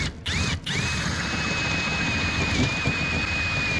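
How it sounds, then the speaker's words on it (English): A power drill whines steadily at high pitch, starting and stopping briefly at first, then running continuously as it enlarges a hole in metal on a Plymouth Fury, close by. "we're gonna have to drill this hole out slightly bigger for that to fit into"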